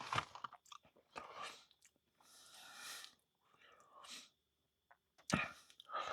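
Someone chewing a freeze-dried chocolate cereal-like snack during an overnight camp, close and quiet crunching in short bursts separated by silences, with soft breaths and whispery sounds.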